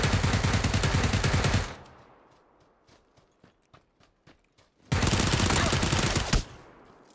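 Automatic gunfire in PUBG sprayed at a tree, loud sustained bursts at the start and again later, with scattered single shots and quiet gaps between.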